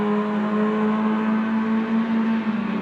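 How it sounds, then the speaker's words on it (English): A race car engine at full throttle during a race at Hockenheim, a loud, steady, high-pitched scream holding one sustained note without a break and with no talking over it. "Keeping his foot flat, both of them, you can hear the engine scream."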